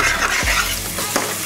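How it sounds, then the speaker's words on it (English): Garlic frying in a pan with prawns about to be added, giving a loud steady sizzle with a brief stir or scrape partway through. "A bit of garlic. Just fry enough."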